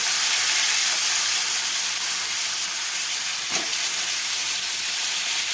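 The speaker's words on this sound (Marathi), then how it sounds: "नंतर आपण जी काही व्हेजिटेबल चिरून घेतलेली आहे ती घालून घ्यायची यामध्ये" Chopped mixed vegetables tipped into a hot pan over lowered flame for a Bhogi mixed vegetable bhaji, giving a steady, loud broadband sizzle that holds throughout with one brief clatter midway; no voices.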